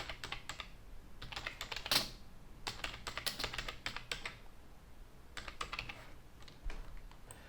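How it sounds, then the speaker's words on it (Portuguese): Typing on a computer keyboard while entering a parameter name in Revit software, a close, quiet run of irregular key clicks in bursts with brief pauses and one sharper tap near the start, no talking. "vou digitar o nome do parâmetro"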